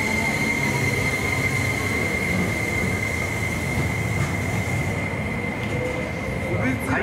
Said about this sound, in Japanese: 回送電車が発車します。